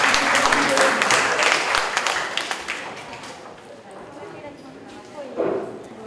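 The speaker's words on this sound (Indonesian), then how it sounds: "tepuk tangan untuk anak kita" An audience at an East Java education office visit in Gresik claps for a student, a loud burst that fades over a few seconds, with a voice speaking near the end.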